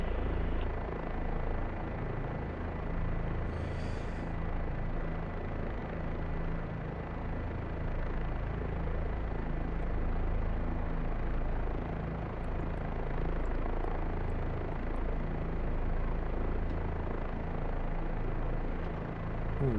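An OH-58 helicopter hovers in the combat flight sim DCS, with a loud, steady rotor and turbine drone that holds constant throughout, rattly and close, with no clear break.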